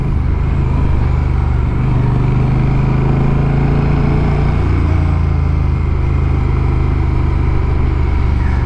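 A 2021 Honda Rebel 1100 DCT motorcycle engine drones steadily while riding, a loud continuous low rumble with wind noise and no speech.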